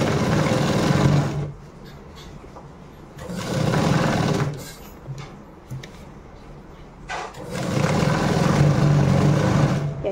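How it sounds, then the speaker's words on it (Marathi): A sewing machine stitches the lining of a blouse in bursts of steady whirring, each run loud and close with short pauses between. "आपण त्याला पूर्ण अशी शिलाई मारून घेऊया"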